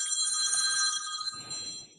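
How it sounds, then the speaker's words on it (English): A modern iPhone rings with an old-school telephone bell tone, a bright, rapid metallic trill that sounds loudly for about a second and then trails off into a quieter ringing in the room. "Excuse the phone ringing in the background."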